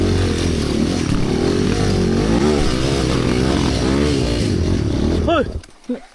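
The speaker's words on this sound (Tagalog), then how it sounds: "Sugod na dayog sagit ang motor" A dirt bike engine on an enduro trail revs hard and loud for several seconds with rising and falling pitch, then cuts off abruptly near the end.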